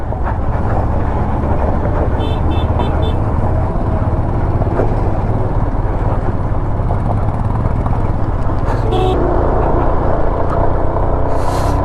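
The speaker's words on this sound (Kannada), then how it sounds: "ಫಸ್ಟ್ ಗಿಯರಲ್ಲೇ ಅಳ್ತಿದೆ ಗಾಡಿ." A vehicle engine strains in first gear on the climb up Ladakh's Khardung La mountain pass, giving a loud, continuous rumble mixed with wind noise and a few brief high beeps.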